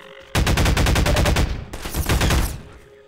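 Rapid automatic gunfire from Half-Life 2, a dense burst of evenly spaced shots lasting about a second, then a brief pause and a second, rougher volley that tails off. Loud and close, no talk.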